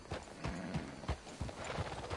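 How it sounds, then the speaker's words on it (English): Horse hooves clip-clop in Red Dead Redemption 2 on PS4, a steady series of close, distinct hoof strikes at an even walking rhythm, heard alone. "That's a fine horse you got there."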